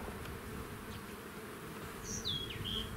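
Honeybees hum steadily as a beekeeper shifts the colony from one hive into another, a close, continuous drone with a few brief higher-pitched buzzes passing near toward the end.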